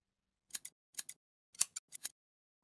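Scissors snip through paper while cutting out a pop-up card decoration, giving four quick pairs of crisp, close clicks separated by brief pauses in an otherwise quiet room.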